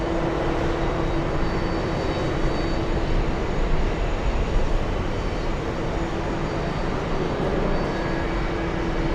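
A fixed-wing airliner powers up for takeoff from runway 22 right at JFK airport, its jet engines producing a continuous loud broadband roar with a steady tonal hum that holds evenly and alone throughout.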